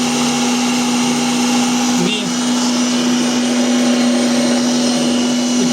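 A homemade electric chopper grinds home-grown tomatoes for juice, a loud steady motor whir with a strong hum that dips briefly partway through, while someone talks over it.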